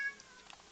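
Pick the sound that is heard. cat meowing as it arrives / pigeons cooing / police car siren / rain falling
cat meowing as it arrives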